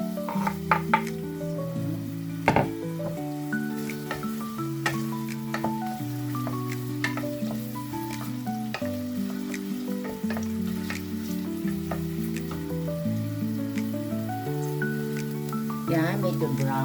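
Onions frying in a pan, a soft steady sizzle beneath someone speaking in Tagalog throughout, with occasional clicks and stirring sounds, faint compared with the voice.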